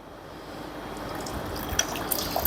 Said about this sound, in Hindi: ये पानी डाल दिया पूरी ट्रे में।